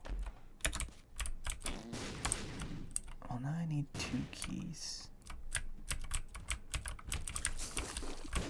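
Computer keyboard keys clatter in quick, continuous bursts of typing while The Binding of Isaac is played, close and crisp, with a soft whispering voice partly over the clicks.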